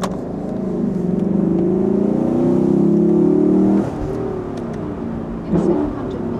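A Lexus LFA with a 5-litre V8 is driven, heard from inside as a loud, low engine drone that builds steadily, drops back sharply partway through and then swells again briefly.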